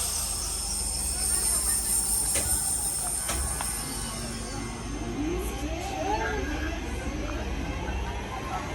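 Train departing from a busy Selly Oak station, heard from the platform as a low rumble with rising, sweeping wheel squeals and clanks over steady outdoor background noise.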